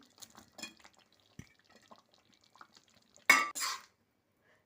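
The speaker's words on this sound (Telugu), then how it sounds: "ఈ పన్నీర్ పీసెస్ ఇందులోకి వేసేస్తున్నానండి" Paneer pieces go into palak gravy in a pan, with a few soft clinks and scrapes of a spoon against metal, then two louder clattering stirs near the end amid quiet pauses.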